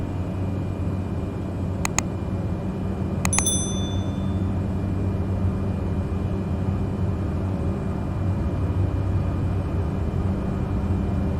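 The turboprop engine of a Cessna 208B Grand Caravan drones steadily during the takeoff run on the runway in Microsoft Flight Simulator 2020, a constant low hum and whine, broken early on by two pairs of short, bright cockpit dings.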